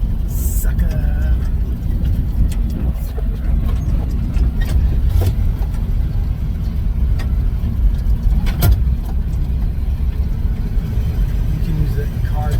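A 1970 GMC pickup truck engine runs steadily and loudly while driving, with a deep low rumble throughout and a harder downshift, and a few brief clunks and knocks over the drone.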